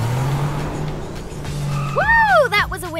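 Cartoon self-driving car speeding off, a low engine hum giving way to sweeping, rising-and-falling whooshing tones and squeal-like swoops near the end, loud and close.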